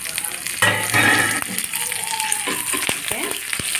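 Cumin, dried red chilies and curry leaves hit hot oil with a sudden loud burst of spluttering and crackle, then settle into a close, steady sizzle with scattered pops and a few light clinks.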